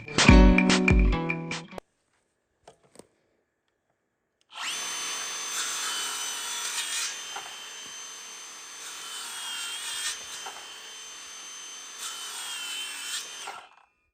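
A Hilti cordless circular saw with a 6.5-inch blade cuts with a loud, steady high whine that runs for about nine seconds after a short burst of other noise and a near-silent pause.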